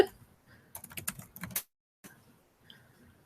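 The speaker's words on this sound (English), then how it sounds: "Y'all will see that I can't type sometimes." Quiet clicking of a computer keyboard being typed on in short, uneven bursts, close and faint, with a soft voice briefly in the background.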